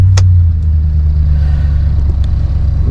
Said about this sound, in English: Truck is fired up.